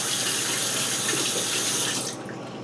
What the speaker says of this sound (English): Now I'm going to rinse the navel orange.